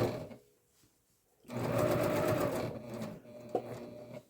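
A sewing machine stitches around a messenger bag pocket, running in a steady quiet burst of rapid needle strokes for about a second and a half, then stopping, with faint handling noise between.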